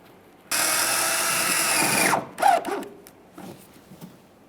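A power tool drives a 7mm headed bolt into the rear bumper area of a 2013-2020 Ford Fusion, one loud steady whir of about a second and a half that winds down, followed by a few softer handling clicks and rubs.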